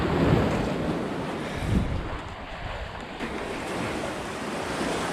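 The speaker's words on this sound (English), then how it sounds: "We made it to the beach." Ocean waves wash onto a beach in a steady broadband roar with a couple of swelling surges, loud and close, with gusts of wind buffeting the microphone and no talking.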